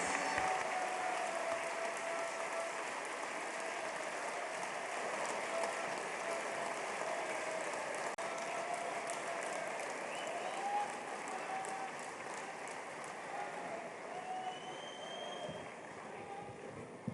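A large summit audience in a hall applauds the Prime Minister of India. The clapping is faint and distant, a continuous rain-like wash that holds steady for the whole stretch.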